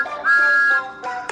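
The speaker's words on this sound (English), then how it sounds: "He is the #1 engine on Sir Topham Hatt's railway and has a whistle that sounds" Toy steam engine whistle of Thomas the Tank Engine, a bright, close tooting blast held steady, then cut short, followed by a second shorter toot and a rising third.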